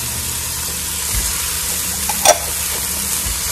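Half a green pepper goes into a hot pan of spaghetti sauce base, giving a steady close sizzle with a short stirring scrape midway.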